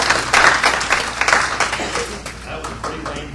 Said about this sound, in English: That was a pretty lame round of applause.